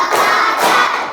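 A class of schoolchildren claps together in a rhythmic counting game, a short burst of dense, loud clapping that swells, dips, then surges again.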